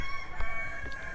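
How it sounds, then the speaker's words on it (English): Rooster crowing with hens in the early morning, a brief faint call heard behind a steady background hum. "sorry for the noise, in early morning we can't stop the hens"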